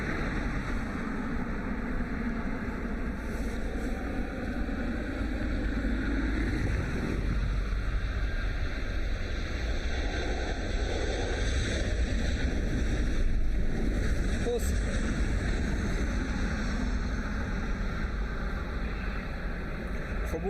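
A Ryanair jet arriving at Dublin Airport from London Gatwick makes a steady, distant broadband roar that swells slightly midway, with wind washing over the microphone throughout.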